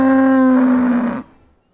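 A single cow gives one long, loud, close moo lasting about a second, with a strong harmonic tone, then it cuts off into near silence.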